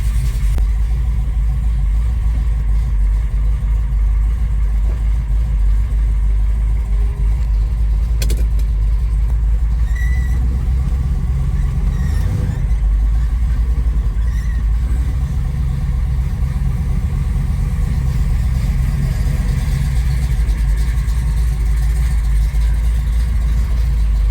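A 1970 Plymouth Cuda V8 idles steadily and close by, a deep continuous rumble with a faint clank and a few light knocks over it and no talk.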